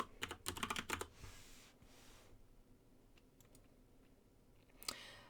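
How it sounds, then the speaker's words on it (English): Fingers type on a computer keyboard while filling in database form boxes, with the tab key moving between fields; a quick cluster of clicks comes first, a pause follows, then a single final keystroke, all close and moderately loud. "we're going to type those in ourselves using the tab key to move between the boxes"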